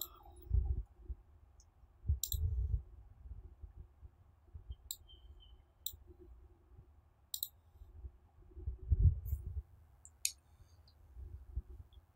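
Sharp mouse clicks during a software installation on a computer, about eight brief ticks spread irregularly over several seconds, with low rumbling handling noise beneath and no talking.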